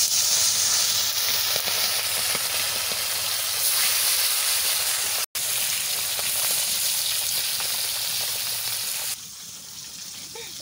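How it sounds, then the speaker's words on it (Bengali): Tilapia fish fries in a pan of hot oil, giving a loud, steady, hissing sizzle that breaks off briefly midway, then continues and softens toward the end. "মাছ ভাজা বসাই দিচ্ছি"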